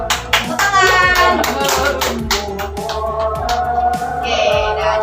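Children clapping their hands together in a classroom activity, a burst of close, sharp claps with a few scattered ones, mixed with bits of children's voices.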